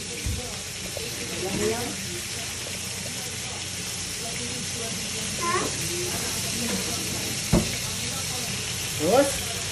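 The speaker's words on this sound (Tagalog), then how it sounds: "Gisahin na natin ng maayos." Vegetables for chop suey sauté in a hot pan, with a steady broadband sizzle and occasional stirring scrapes and clinks throughout. A voice speaks intermittently over the cooking.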